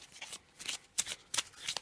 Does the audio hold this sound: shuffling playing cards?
yes